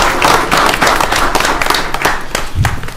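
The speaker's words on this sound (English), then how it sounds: "Yeah, someone clap." An audience at a city council meeting claps steadily and loudly for about three seconds, with a brief swell near the end.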